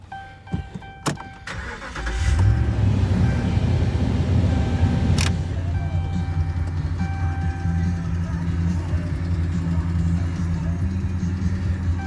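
A used 2009 Dodge Ram 1500 SLT pickup truck cranks and its engine catches after a couple of seconds, then settles into a steady, loud low idle rumble that runs to the end, preceded by a few faint clicks.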